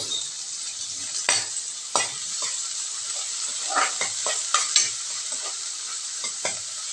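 Finely chopped onions sizzle in a hot pan with a steady frying hiss, while a utensil stirs them, scraping and clicking irregularly against the metal.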